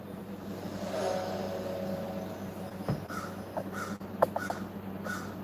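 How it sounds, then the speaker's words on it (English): A crow caws outdoors, several short, harsh calls heard at a distance over a steady low hum of indoor background noise. "You hear that crow in the background?"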